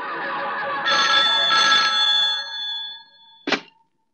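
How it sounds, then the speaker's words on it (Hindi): Telephone ringing in a 1997 Hindi film: a bright electronic ring in repeated pulses, fairly loud and close, ending in a short clunk as the receiver is picked up, with no voices. "मैं अभी इंस्पेक्टर को फोन करके प्रिया को छोड़ने के लिए कह देता हूँ"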